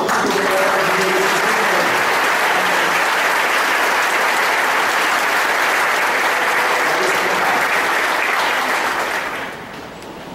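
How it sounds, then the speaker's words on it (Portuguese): A church congregation applauds during a worship service, a steady, full round of clapping that fills the room for about nine seconds before thinning out near the end. "Eu queria que você desse uma salva de palmas para Jesus."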